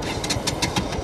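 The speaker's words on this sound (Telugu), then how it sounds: "స్టార్ట్ అయితే అవుతలేదు" A 2023 BS-6 Bajaj NS200 motorcycle, apparently out of fuel, cranks and fails to start, giving a quick rhythmic chugging of starter turns and engine pulses up close.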